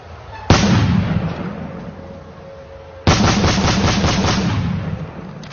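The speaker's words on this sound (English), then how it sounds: "The sound of gunfire continues to be heard throughout Cameroon's English-speaking regions." Two sudden loud bursts of gunfire in Cameroon's English-speaking regions, each followed by a rattling, echoing rumble that fades slowly, heard in the open at some distance.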